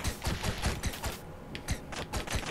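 Rapid shooting in the pixel-art game Owlboy, quick bursts of sharp clicking shots in uneven volleys with brief pauses, moderately loud and close.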